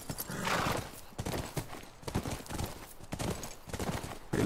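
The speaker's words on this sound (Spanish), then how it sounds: "Mira, junto al rancho. Es nuestro caballo." Horse hooves clip-clopping with a neigh in The Last of Us Remastered, a horse near a ranch in the game, sounding close and steady over rustling game ambience with no talk.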